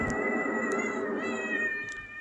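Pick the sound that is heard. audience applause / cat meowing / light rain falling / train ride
cat meowing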